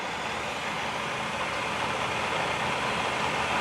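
A TOS FGU 32 universal milling machine runs with its spindle at 1400 RPM, giving a steady, smooth broadband whir and hum at moderate level with no knocks or changes, alone without voices.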